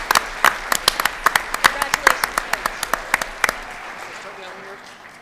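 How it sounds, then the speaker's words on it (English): Applause at a school board meeting, with a few distinct hands clapping in a brisk, uneven rhythm that thins out and fades after a few seconds, leaving room noise and faint voices. "Please join me in a round of applause congratulating this women on a great job."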